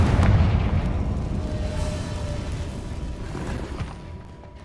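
A Confringo spell explosion in Hogwarts Legacy: a loud, booming blast at the start that rumbles and slowly fades over several seconds, with no voices.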